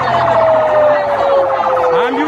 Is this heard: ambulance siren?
yes